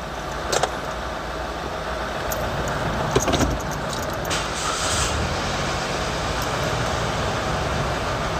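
A 2011 Kia Deluxe Special engine idling below 1000 RPM, a steady low hum held evenly throughout, with a few faint metallic jingles near the start.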